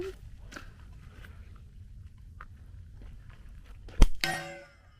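A 315-grain cast 8.6 Blackout bullet from a bolt-action rifle strikes a steel IPSC target once, giving a single sharp clang that rings and fades over about a second after a quiet stretch with faint outdoor noise.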